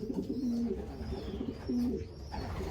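A racing pigeon hen coos nearby in soft, low repeated phrases, two clear bursts of rolling coos with faint background noise.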